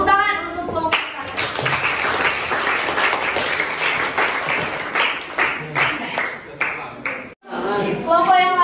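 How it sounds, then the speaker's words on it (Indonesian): Students applauding a group in a mathematics classroom, a loud burst of many hands clapping that swells then thins into scattered claps, with voices heard at the start and end. "Tepuk tangan untuk kelompok 1."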